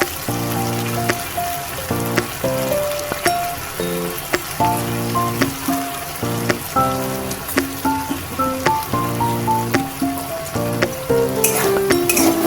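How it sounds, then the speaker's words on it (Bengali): Spice paste for a village-style green fig curry fries in a pan, a constant crackling sizzle heard beneath louder rhythmic background music that plays throughout. "মশলাটাকে ভালো করে ভেজে নেব।"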